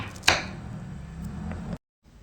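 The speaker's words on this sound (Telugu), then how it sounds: "ఇలా పొడవుగా సన్న సన్న ముక్కలు కట్ చేసుకోవాలి ఆ తర్వాత ఇలా అడ్డంగా కట్ చేయాలి" A knife slices through a raw green mango, giving one sharp cut near the start over a low steady hum, and then the sound drops to near silence.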